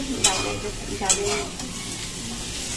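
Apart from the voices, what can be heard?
aloo posto frying with black cumin tempering, rice cooking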